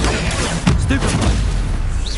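A spell blast from the Hogwarts Legacy video game, loud and booming with a sharp burst that crackles through layered game noise, a voice nearby shouting over it.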